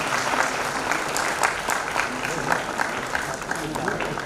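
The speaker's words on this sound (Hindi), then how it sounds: "सभी प्लीज तालियां रुकनी नहीं चाहिए।" Audience applause at a formal ceremony, sustained clapping from a large crowd with irregular individual claps standing out, loud and continuous throughout.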